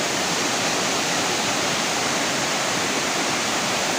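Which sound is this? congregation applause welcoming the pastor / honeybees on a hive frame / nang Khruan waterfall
nang Khruan waterfall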